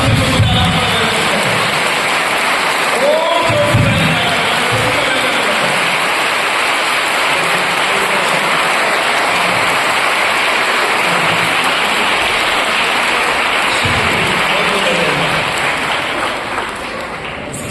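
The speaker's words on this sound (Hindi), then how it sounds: "दोनों हाथ अपने पवित्र हाथों को उठाएं और जोर से ताली बजाकर पिता को" Loud, dense clapping from a congregation at a Christian prayer meeting in Delhi, sustained and steady throughout with a faint voice underneath before fading slightly at the end.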